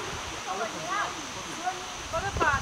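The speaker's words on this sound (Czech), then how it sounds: "Sloní vodopády." Elephant Falls waterfall in Vietnam sends a steady rushing hiss through the background while people talk over it in the foreground.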